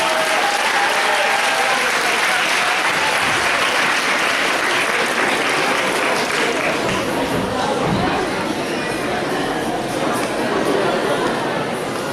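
A crowd at a manga convention cosplay contest applauds a contestant: loud, continuous clapping from a large audience, with cheering and chatter mixed in throughout the roar.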